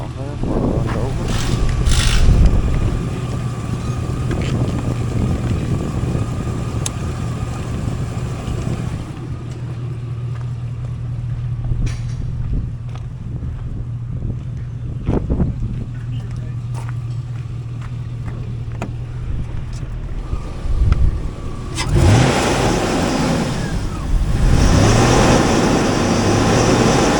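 A 2005 Hummer H2 with an LQ4 V8 engine drives along, its steady low engine drone and road rumble running throughout with wind noise, a dip in level midway, then louder revving near the end.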